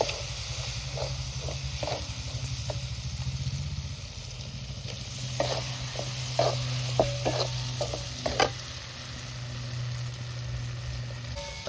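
Ground masala paste sizzles steadily in a pan as the base for spicy egg curry, with close spoon scrapes and clicks from stirring over a continuous frying hiss and no talking.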